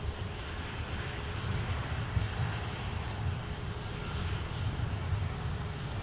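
Aircraft engines roar steadily at Minneapolis airport, a broad continuous rumble heard at a distance with no talking.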